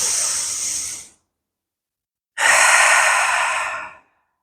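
Deep yoga breaths: one long, airy breath that fades out, a second of silence, then a fuller, louder breath that tapers away. Close and clear, with no talking.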